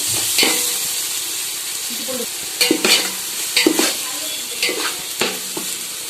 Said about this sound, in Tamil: இது கூட நம்ம இஞ்சி பூண்டு பேஸ்ட் சேர்த்திடலாம் இதையும் நல்லா வதக்கலாம்